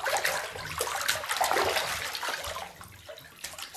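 Child splashing water in a bathtub, with busy broadband sloshing and dribbling water throughout, loud and close in an echoing bathroom.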